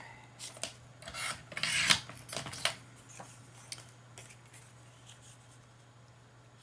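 A paper rustic Christmas Santa tag is trimmed with a quick run of crisp, scratchy cuts lasting about two seconds, then the sound fades to quiet handling over a low steady hum.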